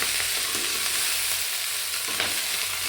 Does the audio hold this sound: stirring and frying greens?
yes